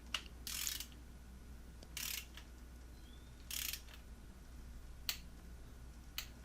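A torque wrench clicks in short bursts while tightening Subaru cylinder head bolts to 22 foot-pounds, five or six crisp ratcheting clicks spaced about a second apart, close and alone against quiet background hum.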